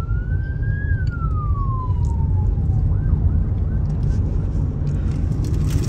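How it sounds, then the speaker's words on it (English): On a busy road in Accra, Ghana, a passing ambulance siren rises briefly, then glides down and fades within a few seconds, over a constant loud rumble of vehicle noise. "There's an ambulance."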